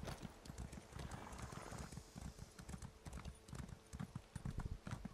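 Steady clip-clop of horse hooves trotting in an even rhythm in the video game Elder Scrolls Online, close and clear, with a faint hum of ambience behind.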